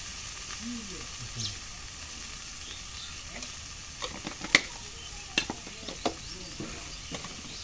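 Silver carp curry fries in a pan while chili powder is stirred in, with a low sizzle and a scatter of scraping stirs and clinks. Voices talk intermittently.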